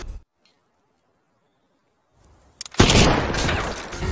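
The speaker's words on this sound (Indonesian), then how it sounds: "Mendengar suara tembakan" Gunfire in a war film about a Soviet sniper fighting Nazi German troops: after near silence, a few sharp cracks burst out, then loud sustained shooting and rumble fills the rest of the passage.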